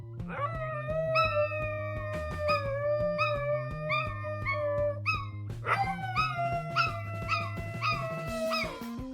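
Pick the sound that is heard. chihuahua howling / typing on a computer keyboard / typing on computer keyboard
chihuahua howling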